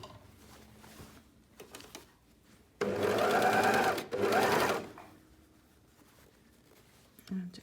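An overlocker neatens seam allowance edges together while setting in a sleeve, running in two loud bursts of about a second and a half each with a short pause between, amid quiet handling noise.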